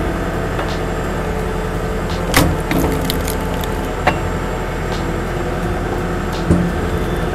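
A log splitter runs steadily with a constant mechanical drone while splitting dry, knotty pear wood, sharp cracks and splintering snaps breaking through at a few moments.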